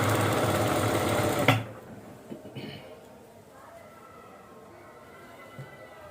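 A sewing machine stitches a sofa cover, running loud and steady for about a second and a half before stopping abruptly. A quiet room follows with faint, scattered handling noises.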